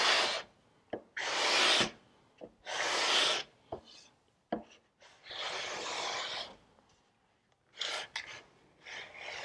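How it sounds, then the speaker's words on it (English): A wooden furniture leg being hand-sanded with 150 grit sandpaper, a series of close, dry rasping strokes in uneven bursts with short pauses and light knocks between them, no talking. "I'm actually going to hit it with some 150 grit over here, and I'll move to a 220."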